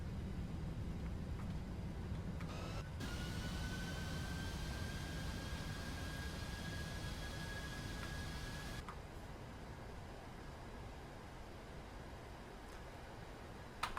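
Airliner engines roaring with thrust reversers after landing in a PMDG 737 flight simulator, a steady loud broadband rush with a rising whine that eases off partway through.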